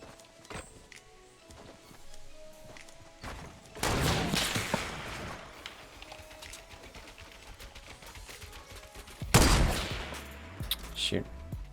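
Gunfire in Fortnite Battle Royale: a couple of bursts of shots, with a longer volley near the middle and a sharp loud blast later, amid scattered quieter clicks and thumps.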